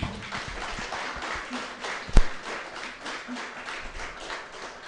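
Audience applause at a law faculty award ceremony in Hyderabad, a dense, steady wash of many hands clapping that runs throughout, with one sharper louder clap standing out near the middle.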